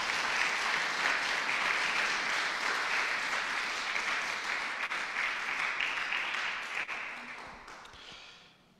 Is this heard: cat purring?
no